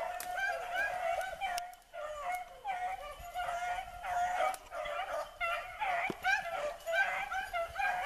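Hunting dogs in the pines during a rabbit hunt, barking, yipping and whimpering in an excited, uneven stream of high whines and sharp yelps, fairly close and continuous.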